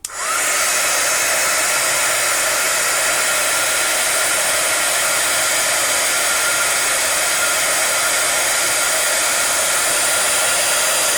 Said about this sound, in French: Donc on y va avec le pistolet chauffant. Donc c'est de l'air chaud hein, qui sort et ça va faire fondre la poudre.